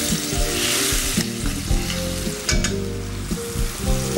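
Pork chops and garlic sizzle in a pan as white wine is poured in. The frying is dense, close and continuous, with no talking.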